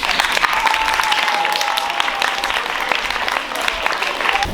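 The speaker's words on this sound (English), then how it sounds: "perhaps a round of applause for our fantastic time." Steady, dense applause from a school audience at a Year 8 debate competition final, filling the whole stretch with even clapping and no break.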